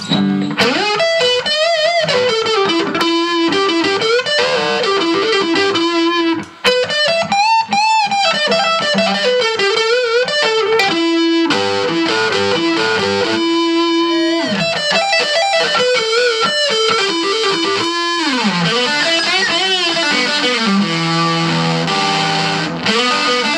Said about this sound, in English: I'm going to put a little distortion on it